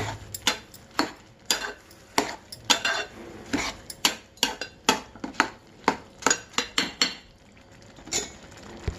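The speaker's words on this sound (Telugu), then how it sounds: "1 స్పూన్ పెరుగు వేసుకొని ఈ విధంగా అడుగుదాకా కలుపుకోవాలి" Spoon scraping and clinking against a metal pot while mint biryani mixture is stirred down to the bottom after yogurt goes in, a steady run of sharp close clinks with brief pauses between them.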